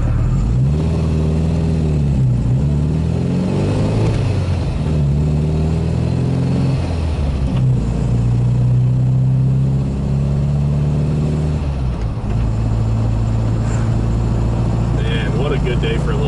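A 1974 MGB-GT engine droning and revving while cruising, heard steadily from inside the car with rising and falling pulls through gears, loud and continuous.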